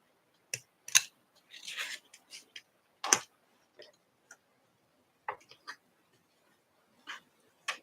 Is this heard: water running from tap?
no